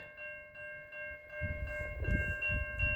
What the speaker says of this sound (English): we got a CN eastbound train coming down the line